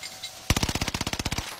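Rapid automatic gunfire from a new gun in a video game, a single burst of about fifteen sharp evenly spaced shots lasting roughly a second.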